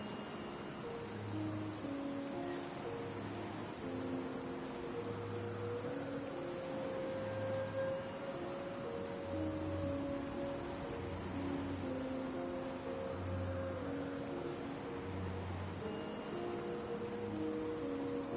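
Steady rain in the video game Genshin Impact, a soft, even hiss of falling drops that continues throughout, with faint tonal background notes underneath and no voices.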